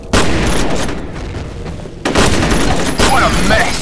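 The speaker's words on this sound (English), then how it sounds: "Grenade out!" Bursts of automatic gunfire and explosive booms fill a multiplayer match of F.E.A.R. Combat on the Docks map, loud and dense with a brief lull in the middle before the firing resumes.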